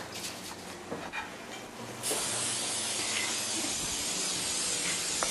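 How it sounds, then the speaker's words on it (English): After a few faint clinks, an aerosol can of cooking spray lets out a steady, close hiss of spray into a casserole dish that continues to the end. "we're going to go ahead and spray our casserole dish here, just lightly there."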